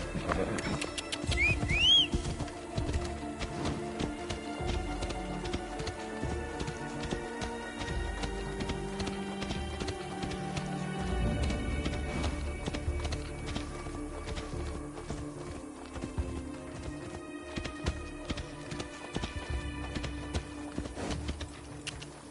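Rhythmic clip-clop of a horse's hooves at speed in Assassin's Creed Odyssey, steady and moderately close, with a brief whistle near the start.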